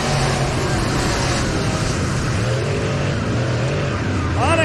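Race cars roar around an oval track in a dense, loud wall of engine noise, with several cars blending together and a rising pitch sweep near the end as one passes close.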